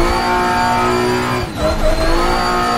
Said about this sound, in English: Let's get some 5th gear drifts in here.